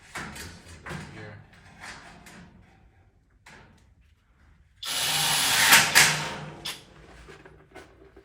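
A power drill drives screws into metal stud framing. Short whirring bursts come first under talk, then one loud, close run of about two seconds.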